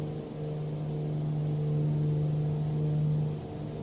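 Steady droning engine with a sustained mid-low tone and faint turbo whine from a Black Square Duke twin-engine aircraft climbing after takeoff in a flight simulator game, loud and continuous without talk.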